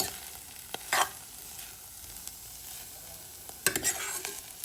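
Grated coconut for mint chutney stir-fries in a pan under a soft, quiet sizzle, broken by a few sharp scrapes of the spatula near the start and near the end.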